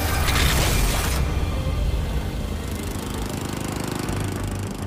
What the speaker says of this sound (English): A lawnmower's blades don't just cut the grass.